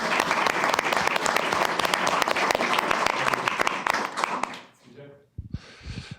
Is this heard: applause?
yes